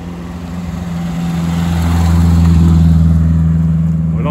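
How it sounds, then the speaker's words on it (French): A Peugeot 205 Rallye at a rally passes close by, its engine note swelling steadily into a loud, droning mid-range roar that peaks and holds before starting to fade. "On la reconnaît celle-là, c'est la rallye, la 205 rallye."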